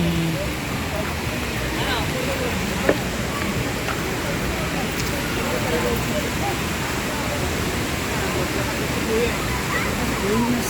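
Running water rushing at a waterfall, a loud continuous roar filling the whole scene, with faint voices underneath.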